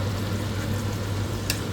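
Prawns fry in a pan with masala, a steady close sizzle that holds evenly throughout over a low hum, with one brief click near the end.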